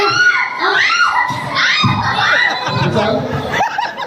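A live comedy show audience in Nizamabad shouts, screams and laughs together, loud and close, with overlapping excited voices in rapid bursts.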